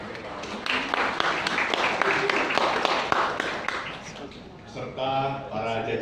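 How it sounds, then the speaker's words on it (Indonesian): Applause from an office crowd at a halal bihalal gathering at PT Surveyor Indonesia, welcoming Pak Ari; dense clapping fills the room for several seconds, then thins as chatter and a voice take over near the end. "Kita tepuk tangan untuk Pak Ari."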